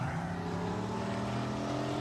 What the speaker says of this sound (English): Sounds like he banged the thing off the rev limiter going down there.